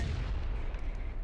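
Grenade blasts in an online battle-royale shooter game, a dense, loud rumbling boom that fills the short moment without letup, no voices over it.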